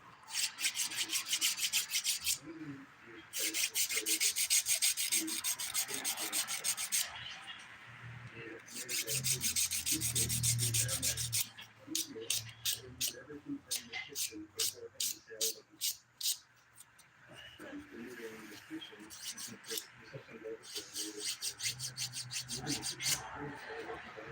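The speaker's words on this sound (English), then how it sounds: "to refine it, I'll flip it over to the finer side of the file" A nail file rasps across a fingernail in repeated bursts of quick strokes, some long scrubbing runs and some rapid short passes, close and crisp, with a voice talking softly between and under the filing.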